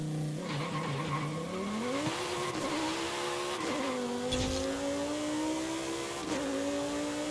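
A Lamborghini Huracan Tecnica V10 in Forza Horizon 5 revs hard and loud, pitch climbing through several gear changes, with tire squeal mixed into the steady, close engine roar.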